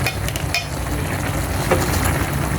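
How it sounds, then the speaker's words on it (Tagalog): Chicken intestines are stirred in a hot cooking pan, with a steady sizzle of frying and occasional scrapes and clinks of a utensil against the pan. It sounds close, fairly loud and continuous, with no talking. "so hahaluin na natin"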